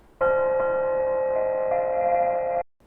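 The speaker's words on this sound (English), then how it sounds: "Here's the ending chimes part." A steady synthesized chime chord from the PlayStation startup sound, played on a Super Nintendo, rings out for over two seconds, smooth and sustained with a slight note shift, then stops cleanly.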